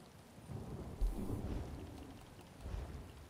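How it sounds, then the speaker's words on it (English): Thunder rolls in the video game Elder Scrolls Online, a low rumbling boom over steady rain, swelling at the start and again near the end at moderate loudness. "I like the way the lightning sounds. I mean, the thunder sounds."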